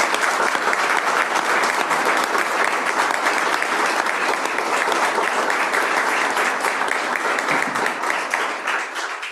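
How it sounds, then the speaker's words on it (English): Sustained applause from a meeting audience, loud and dense throughout, a continuous wash of clapping that eases slightly toward the end. "So now you can give a great round of applause."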